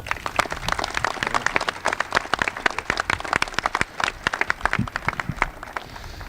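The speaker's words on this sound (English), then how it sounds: "You know who deserves the applause is the men and women of the Illinois State Police" An audience at a state police memorial park dedication claps steadily for the governor, dense and sustained applause filling the room with no talk.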